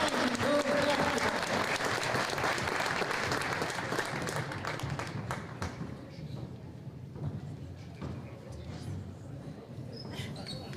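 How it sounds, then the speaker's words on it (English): Crowd applause in a high school gym honoring the graduating 2024 Arlington girls basketball class before a game against Malden, loud and steady at first, then thinning to scattered claps and thuds with voices mixed in. "Fans, let's have one more round of applause for the graduating class of 2024 Arlington Girls Basketball."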